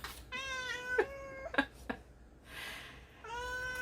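A cat meows several times indoors, clear harmonic calls with a short pause and a final drawn-out meow, close and fairly loud over quiet room noise.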